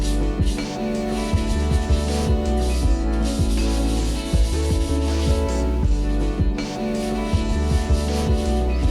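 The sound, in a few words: lightly rubbing over chalk-painted surface to smooth it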